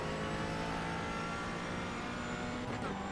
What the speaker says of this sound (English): Listen to the McLaren go